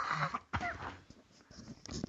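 A short cough or throat-clearing burst amid murmured talk, with a sharp hack near the middle and another rough one toward the end.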